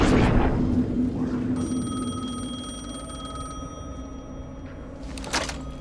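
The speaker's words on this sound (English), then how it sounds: "Answer the phone. The phone again." An old-style telephone rings in the Alan Wake II game, a sustained electronic tone lasting a couple of seconds over dark ambient background, followed by a short burst near the end.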